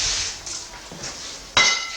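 Dry crackling and crunching as brittle matzah is broken up by hand, ending in a sharp, loud snap near the end.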